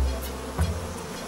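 Honeybees buzzing around an open hive, with robber bees from other colonies trying to take the honey; a close, soft, wavering drone with individual bees passing near and away.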